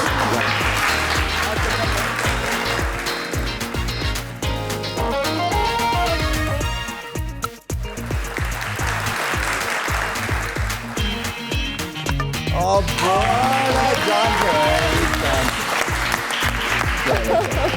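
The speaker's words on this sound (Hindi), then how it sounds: "जोरदार तालियां हमारे क्रिकेटिंग प्लेयर के लिए" A studio audience at a television talk show breaks into loud, sustained applause for a cricket player, dense clapping filling the room with brief dips and swells, some music or voices mixed faintly underneath.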